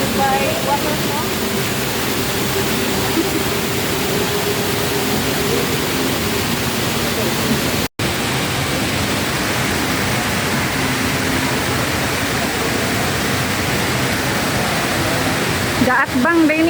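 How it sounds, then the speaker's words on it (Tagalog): The indoor waterfall at Dubai Mall gives a loud, continuous broadband rush of falling water, steady throughout with a brief break midway, with voices talking faintly beneath it. "Dubai Waterfall."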